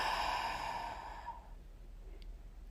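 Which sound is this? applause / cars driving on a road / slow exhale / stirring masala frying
slow exhale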